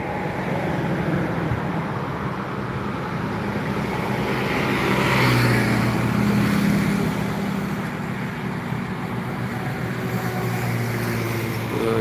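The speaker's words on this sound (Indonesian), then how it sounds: "Ini saya hunting di Jalan Lintas Timur Palembang, Sumatera Selatan, tentang bus dan truk hunting" Buses and trucks rolling along the Jalan Lintas Timur highway near Palembang, South Sumatra, a continuous loud engine rumble and tire roar that swells as a heavy vehicle passes close by midway.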